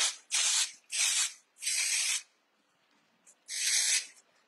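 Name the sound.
texture spray being sprayed on hair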